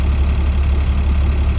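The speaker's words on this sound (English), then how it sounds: "Right now I'm idling at 700 revolutions per minute" A school bus engine idles at 700 rpm, a steady, loud low rumble heard from inside the cab, unbroken and without any revving.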